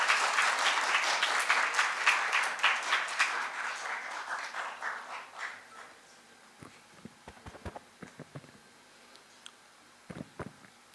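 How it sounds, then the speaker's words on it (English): A big round of applause welcomes Mr. Asim Raza, President of the Zabist Student Council, at a Jashn-e-Azadi celebration. It is loud and dense at first, then thins over several seconds into scattered claps and a few late, isolated ones. "with a big round of applause, please welcome Mr. Asim Raza, President of the Zabist Student Council"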